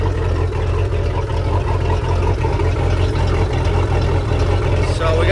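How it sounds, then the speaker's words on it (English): A Mercruiser Alpha 1 sterndrive engine runs steadily during a water pump test, a loud continuous low rumble with a mechanical hum and no spoken words over it. "You can see the water pump is working."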